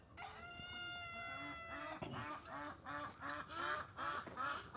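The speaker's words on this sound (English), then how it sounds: "here comes all the chickens" A flock of backyard chickens comes running on a sunny day, with a rooster crowing loudly and hens clucking and squawking close by in overlapping, rhythmic bursts.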